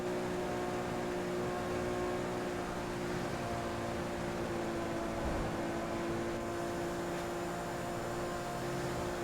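Steady engine drone from a state trooper police car in a roleplay video game, a constant low hum held evenly throughout with no talk over it.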